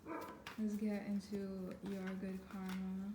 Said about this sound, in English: I'm so sorry if you hear the dog barking.